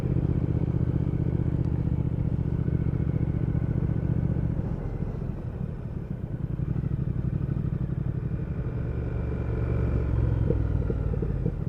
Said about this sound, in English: Oh, there's a nice little burble on the overrun there.